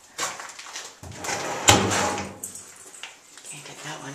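An old, worn door in an abandoned building is pushed open, giving a scraping, clunking rattle with one sharp knock partway through, while people talk nearby.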